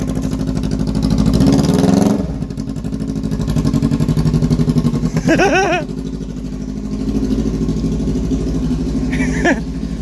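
A motorcycle fitted with a straight pipe exhaust and rear fender eliminator idles loudly and steadily, with a few sharp revs rising and falling partway through, close by while voices speak over it.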